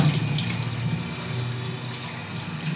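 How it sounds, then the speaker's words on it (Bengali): Cut papaya is washed under running tap water, a steady near rush of water splashing in a kitchen sink with no talking. "এই যে কেটে নিয়েছি পেঁপেটা চলো ধুয়ে দিয়ে দিই"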